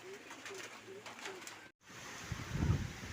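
Pet pigeons coo close by in a soft, repeated rolling rhythm, four calls in a row, followed by a brief gap and then low rustling and fluttering movement.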